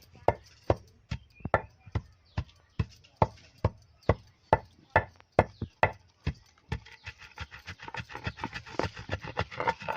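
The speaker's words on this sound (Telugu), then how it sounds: "వాము మంచిగా తొందరగా మెత్తగా నలగాలంటే కొంచెం సాల్ట్ వేసుకోవాలి" Carom seeds (ajwain) and salt are pounded in a mortar, making sharp, evenly spaced thuds up close that quicken into rapid lighter strikes near the end.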